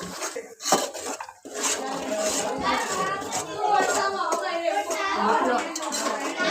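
Onion gravy stirred in a pan, with clinks and scrapes of a spoon against metal cookware, close, while someone speaks over it and children can be heard in the background.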